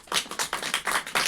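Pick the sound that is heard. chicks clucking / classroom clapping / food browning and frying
classroom clapping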